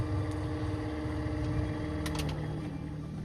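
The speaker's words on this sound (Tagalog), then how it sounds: "Pag high speed walang problema, pero pagka naka number 1 lang, ayan, maingay siya." A worn car air-conditioning blower motor runs at its lowest speed setting, giving a steady, close droning hum with a faint rattling texture and a few brief higher clicks near the end.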